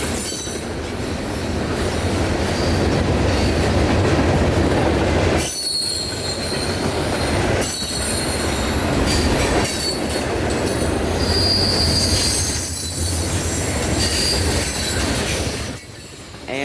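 A CSX freight train with an ES44AC and an EMD SD40-2 up front and a lone ET44AH on the rear rolls past at night, a loud continuous rumble of wheels with squealing and rhythmic clacking throughout.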